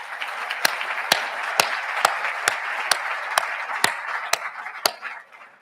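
An audience at a school speech day applauds in a sustained wash of clapping, with one nearby pair of hands striking sharp, evenly spaced claps throughout before it fades at the end.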